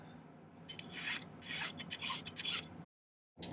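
Rasping strokes of a file on silver sheet, a quick series of scraping passes close up, then a brief silence before one last stroke.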